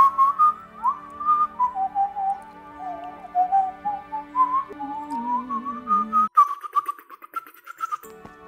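A video game character whistles a wandering melody, clear and close, with a few short gaps and a sharp noise burst near the end.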